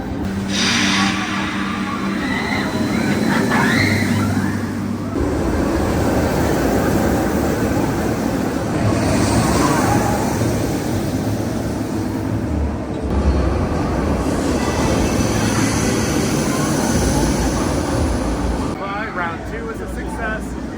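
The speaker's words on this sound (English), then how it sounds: "we're gonna get on F.L.Y for a second ride" F.L.Y flying roller coaster at Phantasialand rumbling and roaring loudly along its track for about twenty seconds, a continuous heavy rush of wheel and wind noise with rises and cuts, and voices heard amid the din.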